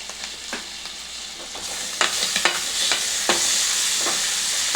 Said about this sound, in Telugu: ఈ సాస్లన్నీ మంచిగా కలుపుకొని